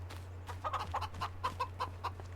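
Chickens in the farm game Farming Simulator 25 clucking in a quick series of about eight short clucks over a low steady hum, moderately close and quiet.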